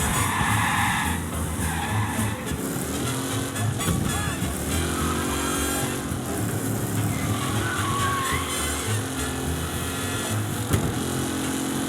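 Race car tires squeal and skid across night roads in Mafia Definitive Edition, a loud and continuous screech laid over revving engine noise and traffic that runs throughout.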